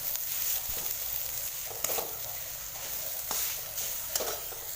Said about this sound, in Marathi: ही कोथिंबीर छान परतून घेऊ आपण